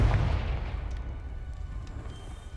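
A Confringo blasting spell explodes in Hogwarts Legacy with a loud, deep boom at the start, followed by a rumbling tail that slowly fades.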